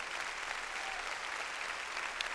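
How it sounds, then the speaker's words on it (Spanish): A church congregation claps together in a steady, even wash of many hands, sustained and fairly distant at low volume, with no voices rising above it. "Dele palmas al Señor de la gloria."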